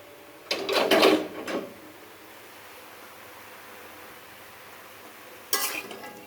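Greens (saag bhaji) frying in a pan get stirred in two short scraping bursts separated by a low, steady background hiss.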